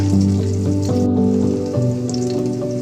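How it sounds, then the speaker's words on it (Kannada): Chopped onion, garlic and curry leaves frying in oil in a pan for a fish curry, giving a steady, close, dense sizzle with no voices. "ಆಮೇಲೆ ಈ ಥರ ಫ್ರೈ ಮಾಡ್ಕೊಳ್ಬೇಕು."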